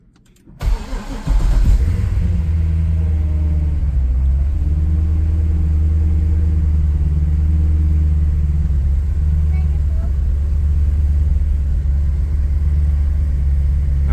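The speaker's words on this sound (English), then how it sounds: "So yeah, this is a legitimate cold start" A Corvette C6 Z06 V8 engine cold-starts with a sharp crank and catch, then settles into a loud, deep, steady idle rumble that holds close and continuous for the rest of the clip.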